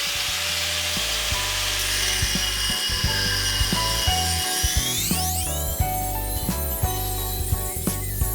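A rotary tool cuts grease channels into trawler rudder bearings, a close grinding and rasping with rising whine and shifting pitch, punctuated by short scraping strokes and knocks, with a steady mechanical hum underneath.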